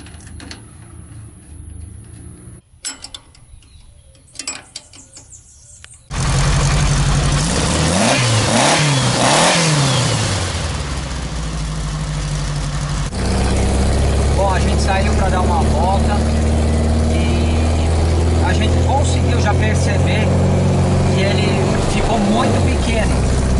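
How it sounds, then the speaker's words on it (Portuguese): A car engine revs hard after a quieter stretch, rising and falling in loud sweeps with small pops from the exhaust as the revs climb; voices talk over it. "Ele tá dando pequenos estourinhos no escapamento, na progressão"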